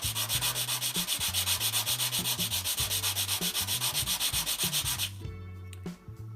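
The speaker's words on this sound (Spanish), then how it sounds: "se puede lijar con lija al agua, en este caso bien finita, es de 320, lija al agua, humedezco un poquito y voy a deslizar el borde" Fine 320-grit waterproof sandpaper is rubbed wet along a tile edge for mosaic work, giving a loud, steady rhythmic back-and-forth rasp of quick even strokes that stops abruptly near the end.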